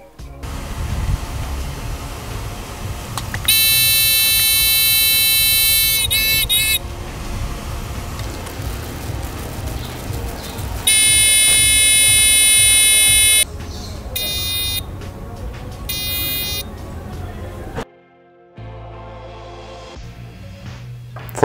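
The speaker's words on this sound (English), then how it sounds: "The rain sensor is finished and now we're gonna test it." A homemade DIY rain sensor's buzzer alarm sounds in loud, steady electronic tones that switch on and off in several long stretches, with shorter chirping bursts between them and some background noise.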